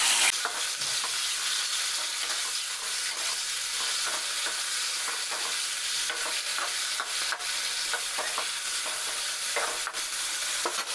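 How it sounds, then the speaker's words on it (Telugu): Chopped tomatoes go into hot oil in a village-style kitchen while a tomato and green chilli chutney is being made, giving a loud, dense sizzle with constant stirring scrapes throughout. "ఇప్పుడు ఆయిల్ బాగా మరిగింది కదా, ముందుగా కట్ చేసుకున్న టమాటాలు వేసుకోవాలి."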